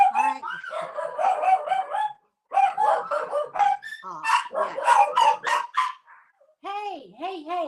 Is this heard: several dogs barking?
yes